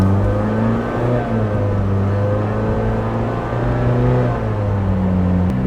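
A rental Nissan Versa accelerating hard, its engine droning loudly and steadily with rising pitch, heard close from inside the car.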